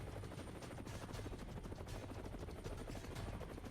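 A helicopter carrying a patient takes off on the Siachen Glacier, its rotor a steady, loud, rapid thudding that fills the whole stretch without pause.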